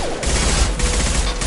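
Rapid gunfire from the video game Mass Effect 2, dense continuous bursts of fusillade and machine-gun shots, loud and close, filling the whole stretch without pause.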